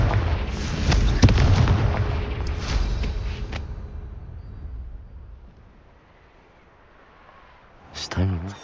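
A Confringo explosion spell bursts in Hogwarts Legacy, a loud booming blast with crackling debris that decays over several seconds, followed by a second sharp impact near the end, with game voices around it.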